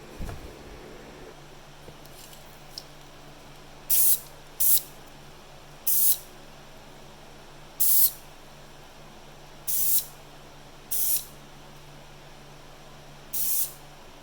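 Spray paint hisses onto a toy car model in short, thin coats: seven or eight brief bursts of about half a second each, spaced roughly one to two seconds apart, close and moderately loud over a quiet background.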